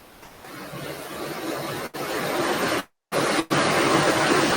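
Sudden heavy rain pouring down as a dense, steady hiss, loud and close, broken by a couple of brief dropouts.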